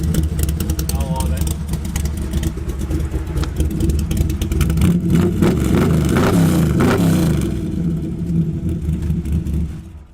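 A lifted Cadillac with 3-inch exhaust, Hooker mufflers and side pipes exiting ahead of the rear tires rumbles loudly and continuously. The engine surges with a deep rev near the middle, close by, with a person talking over it.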